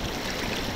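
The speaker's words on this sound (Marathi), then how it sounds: "पाणी सांडव्यातून खाली वाहत आहे" Water about three to four feet deep rushes over the spillway of the Bhendavade village lake, a steady, dense roar that stays close and constant with no voices.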